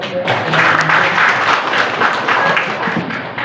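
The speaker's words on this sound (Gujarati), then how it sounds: "ખૂબ જોરદાર તાળી આપી" A school audience in Ankleshwar claps enthusiastically, dense steady applause filling the room for several seconds.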